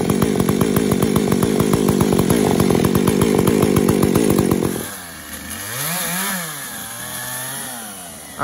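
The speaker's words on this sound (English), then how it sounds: "got the saws warmed up" Chainsaws run hard and loud while cutting up a white oak on frozen ground, a steady buzzing roar for about five seconds before dropping to a lower, wavering idle and rev.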